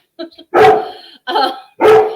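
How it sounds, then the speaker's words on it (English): A pet dog barks loudly and close indoors, with a few short yips and then three strong, drawn-out barks in an uneven rhythm. "my dog is also going crazy in the background"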